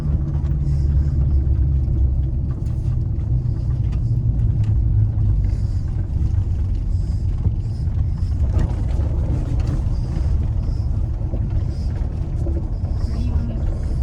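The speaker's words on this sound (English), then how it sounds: "Oh, it's bouncy. It's other than that, it's quiet though. The engine's quiet." Steady low rumble of a 1985 Chevrolet Silverado pickup engine running on a lifted truck, heard from inside the cab, continuous and fairly loud with people talking over it.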